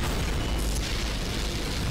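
Carpet bombing from bomb toilets in a Skibidi Toilet animation, a dense continuous roar of overlapping explosions and booms, loud and unbroken throughout.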